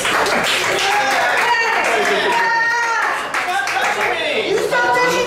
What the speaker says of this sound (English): You guys deserve a round of applause for being so loud